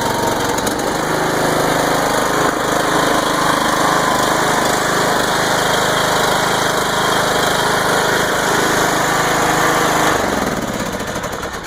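A Troy Bilt Pony riding mower's engine runs loud and steady up close, a constant rough mechanical drone that tapers slightly at the end.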